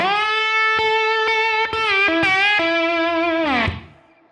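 Standard-tuning slide guitar lick with gliding pitch bends between sustained notes, a short phrase played alone that ends by sliding down and fading out.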